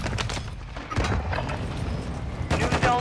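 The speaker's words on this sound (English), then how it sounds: "Taking effective fire" Call of Duty gunfire crackles in dense, overlapping bursts throughout, with sharper volleys near the start and again toward the end, loud and busy with a chaotic battlefield feel.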